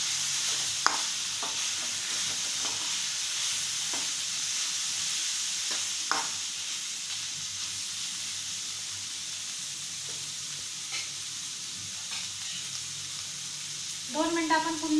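Malvani masala and brinjal are sautéed in a pan for a spicy vegetable dish, with a soft, steady frying sizzle broken by occasional spoon scrapes and taps. A brief voice comes in near the end.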